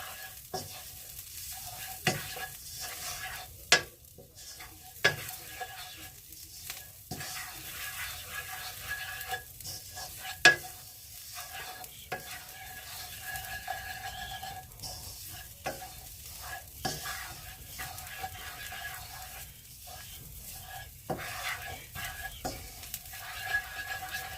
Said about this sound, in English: it says stir constantly for 30 seconds